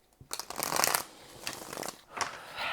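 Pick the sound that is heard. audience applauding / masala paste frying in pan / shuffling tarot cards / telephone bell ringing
shuffling tarot cards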